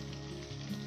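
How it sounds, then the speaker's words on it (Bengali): Hilsa fish frying lightly in a pan, a steady soft sizzle with a low hum beneath, quiet and continuous. "আমি মাছটা কিন্তু হালকা ভাজা দিয়ে নিচ্ছি, বেশি ভাজা দিইনি।"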